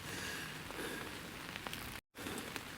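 Rain falls on a camping tent in stormy weather, a soft, even hiss of drops on fabric with a brief dropout near the end.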